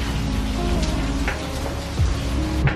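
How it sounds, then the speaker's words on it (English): Steady rain pours down, a dense continuous hiss with scattered heavier drops, no voices. "It's raining just like the day we moved in."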